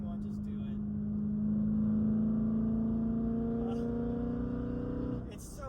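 A BMW E9X M3 V8 fitted with an Eventuri plenum and Infinity Design intake revs up in a long, deep, steady drone that rises slightly in pitch before dropping off. A faint voice comes in briefly near the end.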